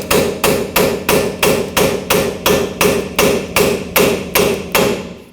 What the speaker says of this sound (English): take a pry bar or a chisel or something that'll fit in here nice and tight, hammer it in